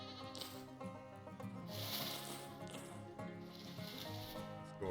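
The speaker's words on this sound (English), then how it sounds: "I can hear the sheep." Sheep in Vintage Story bleat in a couple of long wavering cries, close and clear over a soft ambient backdrop, with short pauses between calls.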